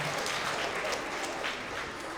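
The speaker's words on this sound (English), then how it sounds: "let's give one more round of applause, not only for our team, but for Mrs. Wagner" A school award assembly audience applauds a team and a teacher: a dense, even patter of many hands clapping at moderate distance, steady with no voices.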